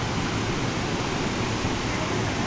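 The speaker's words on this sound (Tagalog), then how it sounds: "At like any other falls, malakas po yung agos niya." Pinsal Falls waterfall in Lupao, Nueva Ecija, swollen by recent rain and a typhoon, roaring as a steady, dense, loud rush of water with no pauses.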